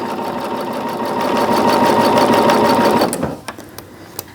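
A sewing machine stitches fabric for a quilt block, a loud, close, rapid mechanical whirring run that stops abruptly, followed by a few light clicks and taps.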